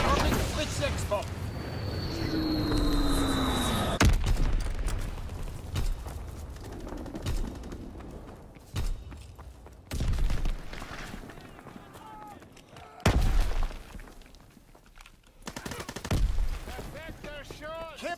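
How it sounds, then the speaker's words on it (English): Fritz-X guided bombs in a WWII video game, heavy booming explosions and gunfire bursts erupting in a busy battle scene, several loud hits spread across the stretch with mechanical noise in between. "Fritz-X bombing mission ready. Bombing Fritz-X bomb."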